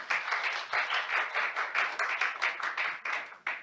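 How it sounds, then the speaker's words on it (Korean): An audience at a National Assembly presentation on game-based learning claps for Professor Han Deok-hyun, a dense, even patter of many hands held steadily throughout the short stretch. "교수님께 박수 한번 부탁드리겠습니다."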